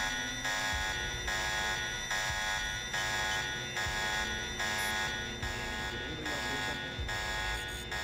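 A pulsing electronic alarm from the Deus Ex Revision video game blares in steady repeated bursts, roughly one per second, loud and continuous over low game ambience, with no talking.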